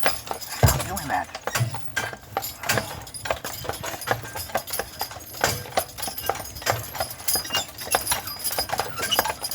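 Carriage horses on a Mackinac Island tour walk downhill, their hooves clip-clopping in a steady, close, even rhythm alongside faint jingling of harness, while someone talks over them.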